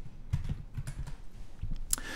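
A computer keyboard is typed on in a short burst, a handful of soft close clicks in a quick uneven rhythm over a quiet background.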